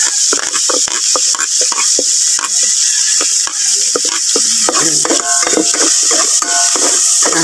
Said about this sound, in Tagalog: Tapos igigisa po natin ang bawang.